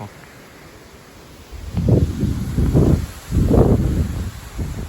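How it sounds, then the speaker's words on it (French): Strong northwest wind gusting at 60–65 km/h on a hot 34-degree afternoon, mistral-like: quiet at first, then heavy buffeting roars surging and easing in waves against the microphone. "on a des rafales de nord-ouest à 60-65 km/h"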